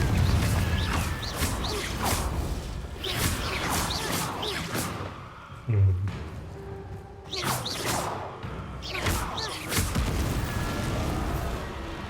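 Repeated Confringo spell blasts in Hogwarts Legacy, a string of booming explosions with whooshing bursts, spaced a second or two apart over about twelve seconds, loud and close amid other game action.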